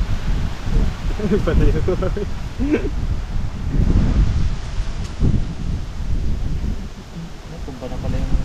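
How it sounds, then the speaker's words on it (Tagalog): Strong wind buffets the microphone with a steady, heavy rush and rumble while people talk over it outdoors. "Ang lakas ng hangin!"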